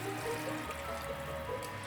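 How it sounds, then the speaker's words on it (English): Water pours steadily into a simmering pot on the stove, a continuous close trickling and splashing stream with no talk over it. "you're gonna add the water. And I'm gonna use 4 cups of water."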